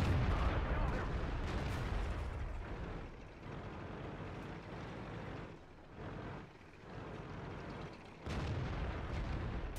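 Heavy tank cannon fire in World of Tanks, a WZ-131 battle on the Ensk map, delivered as loud booming blasts over a dense, constant rumble of engine and battle noise.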